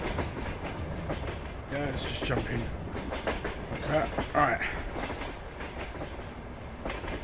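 A loud passing train in the Farming Simulator 22 video game, rumbling with rhythmic clickety-clack of wheels on rails and rising and falling in intensity, while someone talks briefly over it.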